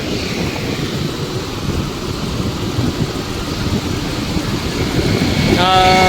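Steady, loud rain in Baramati with a broad rushing roar and a low rumble like distant thunder throughout, no voices.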